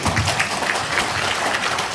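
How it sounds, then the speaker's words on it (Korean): Lecture audience applauding at a regional development forum, a steady wash of clapping that fills the whole moment at moderate volume with no voices over it. "뭐 이렇게 박수 한번 안 쳐주시고요."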